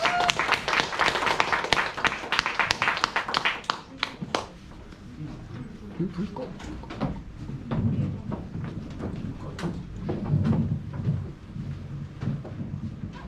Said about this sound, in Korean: 큰 박수로 함께 듣겠습니다